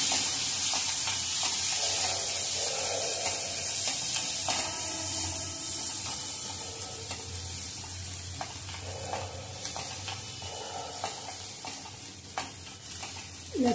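Chopped onion frying in butter in a pan for palak soup, a steady close sizzle and hiss with occasional stirring scrapes, no talking.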